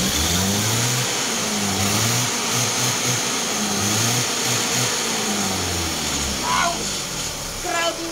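A car engine is revved to about 3,000 RPM in repeated rising pulls, loud and close with a mid-pitched roar, while people talk nearby.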